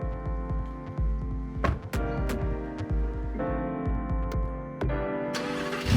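A Lamborghini Huracán Spyder's naturally aspirated 5.2-liter V10 idles loud and close with a harmonic engine note, broken by a few sharp transient knocks and a brief rise in intensity near the end.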